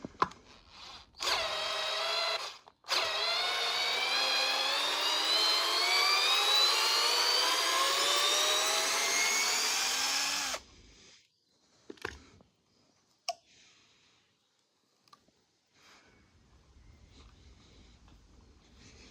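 A cordless Intertool DT-0310 drill, unscrewing with a 62 mm bit, whines loudly and close for about ten seconds, its pitch rising steadily, after a short burst, then stops, leaving scattered handling clicks.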